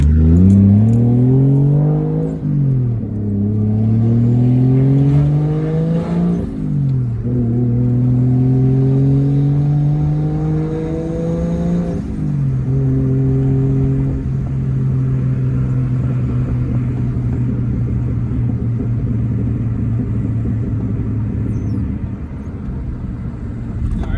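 A Toyota JZX100 engine, swapped from GE to GTE, pulls hard through the gears, pitch climbing steadily then dropping at each shift, loud and close from inside the car.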